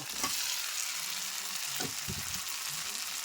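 Fried eggs tipped into a pan of onion, garlic and potatoes, setting off a steady, dense sizzle of frying with a few soft stirring scrapes, close by and with no voices.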